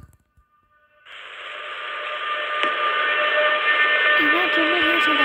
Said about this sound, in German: Da ist ein anderer Zug.